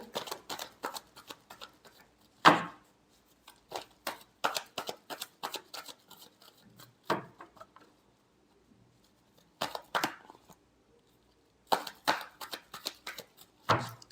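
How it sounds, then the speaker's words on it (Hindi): Tarot cards are shuffled close up in quick riffling bursts of crisp flicks and taps, separated by short silent gaps. "Last shuffle."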